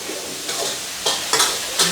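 Pad Thai noodles stir-fried in a pan at a Thai cooking class in Chiang Mai, a steady close sizzle broken by periodic scraping stirs and tosses, with no talk over it.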